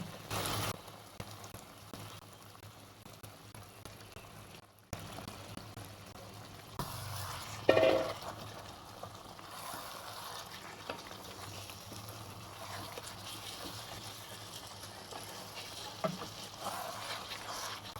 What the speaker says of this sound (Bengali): তো আমার মশলা কষানো হয়ে গেছে, তো এখন একে একে মাছগুলো দিয়ে দিচ্ছি।